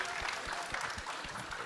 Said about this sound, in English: Let's go and clap that up real quick.